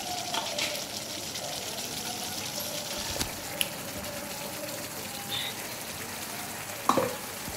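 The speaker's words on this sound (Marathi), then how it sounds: "मोठा गॅस करून थोडी मसाल्याने मटार परतून घेऊया" Green peas frying in masala gravy in a pan on high flame, making a continuous moderate sizzle with soft stirring scrapes and a couple of brief sharper clicks toward the end.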